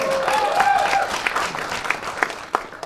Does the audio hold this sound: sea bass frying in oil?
no